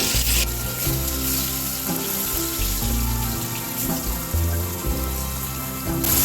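Mung dal frying dry in a pan for meat khichuri, a steady close sizzle and crackle with occasional stirring scrapes, running continuously without talk.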